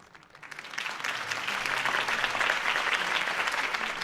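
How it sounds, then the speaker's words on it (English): Crowd applause in a video game after a mayoral campaign speech, swelling from quiet to a steady, dense clapping that holds loud to the end. "If only Mr. Wayne, my campaign's largest backer, could have heard that applause"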